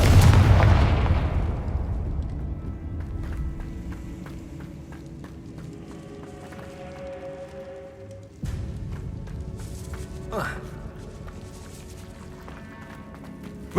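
A Confringo blasting spell bursts with a loud explosive boom in the Hogwarts Legacy video game, then fades into a long rumbling decay with a smaller crackling burst later on.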